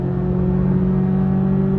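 A Chevrolet C8 Corvette E-Ray's engine revs hard at about 6,000 RPM, a steady, loud, droning exhaust note holding constant throughout with no voices over it.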